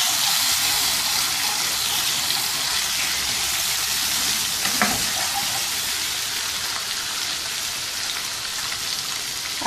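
Garlic ginger paste and green chili paste cook in a hot pan, giving a steady bright sizzle and crackle that holds evenly from start to finish, with one brief clink partway through.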